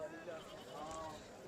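Sheep bleating amid a busy livestock market at Talagang mandi, a short wavering cry set against crowd chatter and background noise.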